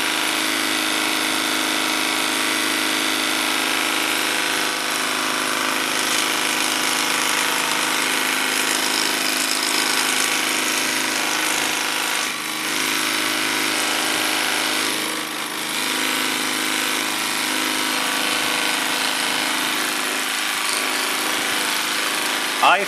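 A buffing wheel polishing acrylic held on a mandrel, the wheel left to drive and rotate the piece: a loud, unbroken motor whir and polishing hiss lasting over twenty seconds with only brief dips.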